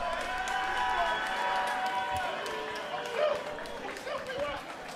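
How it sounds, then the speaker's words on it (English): Audience applause and cheering from a comedy podcast crowd, a dense wash of clapping with scattered whoops, steady then tapering slightly, with voices mixed in. "Please give him a round of applause."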